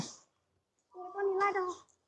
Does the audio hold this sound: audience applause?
no